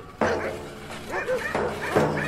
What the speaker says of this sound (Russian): Вот залаяли в стойбище собаки.